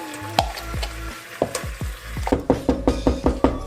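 Marinade poured into hot caramel in a pan for an oyster-sauce mafé, sizzling and frying close up while a utensil clacks against the pan in a steady run of stirring strokes toward the end.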